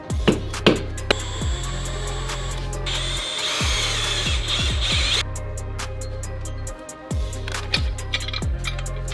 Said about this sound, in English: get them a little drill bit out, drill these two out.